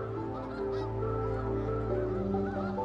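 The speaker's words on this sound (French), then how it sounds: "Jusqu'à 1 million d'oies des neiges venaient se nourrir des restes de culture dans les champs inondés chaque printemps." A large flock of snow geese feeding in flooded spring fields at Lac Saint-Pierre honks continuously, a dense overlapping clamor of many birds near and far.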